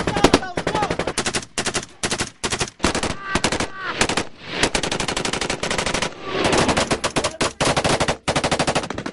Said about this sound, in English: The Taliban open fire from a few hundred yards away.